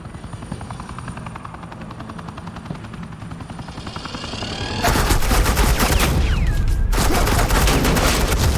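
A helicopter drones steadily in the Batman: The Enemy Within game, then loud rapid suppressing gunfire from the helicopter bursts in and keeps chattering close and heavy over the rotor noise.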